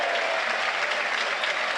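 Football crowd at Turf Moor, Burnley's stadium, for a Burnley versus Brentford match, cheering and applauding in a steady, dense roar that fills the whole moment without a break.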